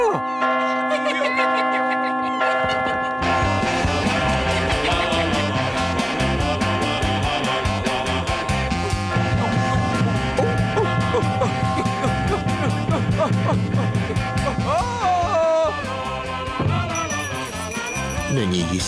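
Church bell rings repeatedly in a rolling, resonant peal within a fairy-tale setting, loud and sustained over music-like tones for most of the passage, fading near the end.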